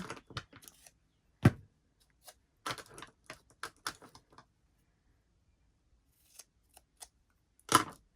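Several crisp scissor snips, irregular and close, with small clicks between them and a louder cut near the end, during diamond painting.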